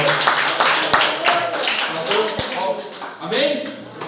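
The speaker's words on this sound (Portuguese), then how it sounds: "Vamos aplaudir bem forte a palavra do Senhor." Congregation clapping during a church service, scattered hand claps and taps mixed with voices and shuffling, moderately loud and close, with talk running throughout.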